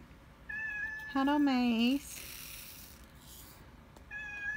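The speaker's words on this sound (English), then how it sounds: "Oh, you can hear my cat." A cat meows several times, one long, loud, wavering meow in the middle, with a person speaking briefly nearby.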